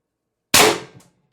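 A single sharp airsoft shot fires from an HD24 ASA gas pistol using AR Tactical 10g Joules. The crack is loud and close, then decays quickly to silence.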